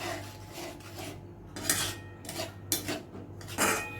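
A spoon scrapes and clinks around a pan of peas curry with salt being mixed in, in intermittent strokes at close range under a steady low kitchen hum, with no talking.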